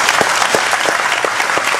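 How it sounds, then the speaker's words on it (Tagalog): Audience applause at a distributor orientation event, a steady wash of clapping from a crowd in a hall, loud and continuous throughout with no talk. "palakpak na kayo."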